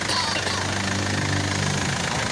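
An Isuzu D-Max pickup truck engine runs steadily at close range, a low rumbling drone with a faint knock, holding at a fairly constant pitch rather than clearly climbing.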